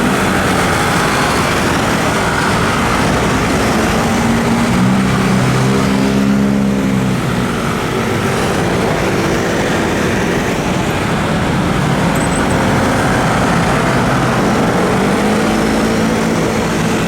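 A crowd of scooters on a Taiwan street roars off together at a green light, engines revving loudly and close in a dense, continuous drone of traffic.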